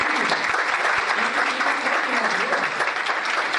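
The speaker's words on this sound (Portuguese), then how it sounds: "Eu quero pedir uma salva de palmas para ele." Steady audience applause fills the room at a legal talk, dense and even clapping from many hands with no break, close and fairly loud throughout.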